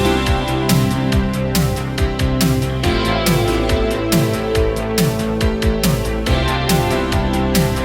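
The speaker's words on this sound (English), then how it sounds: "And to make it a true 80s guitar, we gotta crank the reverb" Clean 80s-style electric guitar playing arpeggiated chords through lush chorus, light drive and heavy reverb from an Overloud Gem Mod plugin, bright, wide and sustained with rhythmic picked notes ringing over one another.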